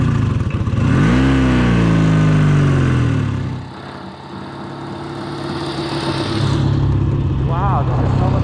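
A 1965 Kawasaki motorcycle engine running as it is ridden, loud and close, rising in pitch as it revs, then easing to a lower drone before picking up again, with a voice talking over it.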